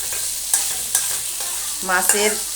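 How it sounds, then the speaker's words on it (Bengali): Fish fried with lemon leaves sizzles steadily in a pan while a utensil scrapes and stirs in repeated sharp strokes, close and clear with no talking. "মাছ দিয়ে লেবু পাতা দিয়ে ঝুরি ভাজা।"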